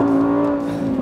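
Lamborghini Huracán EVO RWD Spyder's mid-mounted V10 engine roars loud and close through a downshift, holding a steady, harmonically rich drone that dips slightly near the end.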